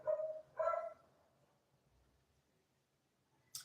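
Two quick, sharp dog barks ring out close by indoors, followed by a short quiet stretch and a brief high yip at the end.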